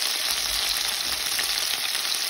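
Food fries in a pan with spring onions, giving a steady, close, dense sizzle that holds at an even level throughout, with no voices.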